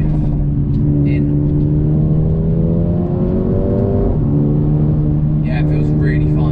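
Mercedes-Benz A35 AMG engine sounds steadily in the cabin while driving, its note dipping and rising near the middle as the car brakes and drops a gear, with harmonic engine tones throughout.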